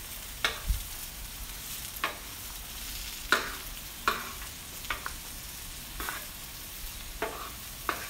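Garlic and half an onion sizzle on a Blackstone griddle, a steady close frying hiss broken by sharp spatula scrapes and taps every second or so.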